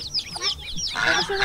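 A chicken on a farm squawks and clucks in quick, busy bursts, close and fairly loud.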